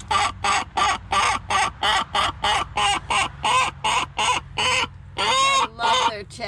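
Backyard chickens chatter close by in a rapid, regular run of short clucks, each burst evenly spaced, with a couple of longer, louder calls near the end.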